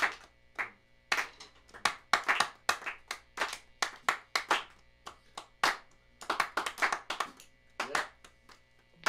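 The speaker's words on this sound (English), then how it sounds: "We're clapping." An audience claps along together at a live concert, sharp distinct claps in a loose rhythm with some syncopation, fairly close and steady over the whole stretch, with no talking.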